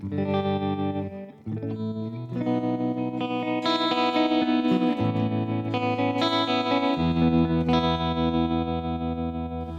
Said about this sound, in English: So now I have the tremolo engaged, and this is the sound that we have.